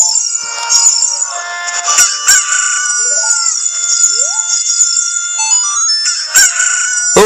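A cucco chicken in The Legend of Zelda: Ocarina of Time 3DS gives loud electronic clucks and crow-like calls, repeated and close, alongside short game chimes and effects.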